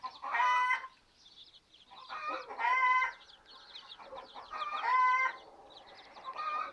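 Several young chickens cluck and squawk outdoors in a village yard in repeated bursts, with quieter chatter between, close by and without any talking.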